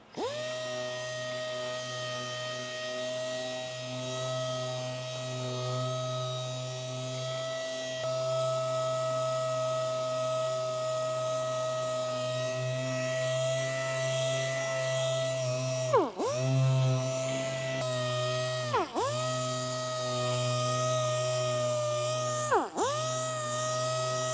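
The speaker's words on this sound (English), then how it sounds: "So we're going to be sanding this quarter panel" A power sander whines steadily at a high, sustained pitch for a long stretch, with a few brief dips in speed as it presses against the quarter panel of a 1989 Honda CRX Si.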